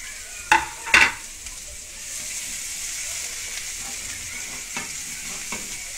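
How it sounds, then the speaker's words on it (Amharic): Minced meat sizzles steadily in hot oil in a pan, a continuous close frying hiss with a couple of sharp scraping stirs at the start. "አሁን ደግሞ ስጋውን ወደ መጥበስ እንሄዳለን ማለት ነው።"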